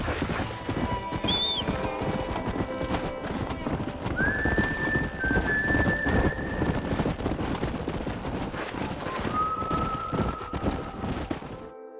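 Horses in the Red Dead Redemption video game, out in New Austin, with a stallion among them: steady clip-clop of hooves and a couple of high neighs over a busy game soundscape, fairly close and continuous.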